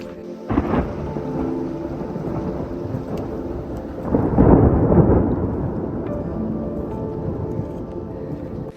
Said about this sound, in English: We are currently on a hike, stuck in thunder, a thunderstorm.